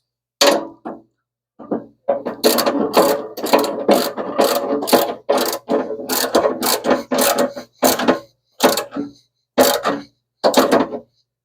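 A ratchet tightens door glass fittings on a Plymouth Duster, loud close bursts of rapid clicking in repeated strokes with short pauses between, alone without talk.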